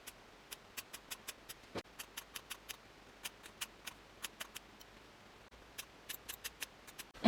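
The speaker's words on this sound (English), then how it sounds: "So I'm going to tidy up around the ear area just using a pair of scissors." Scissors snip around the ear during a home pixie haircut, a quick series of crisp, close metallic clicks in uneven bursts with brief pauses between them.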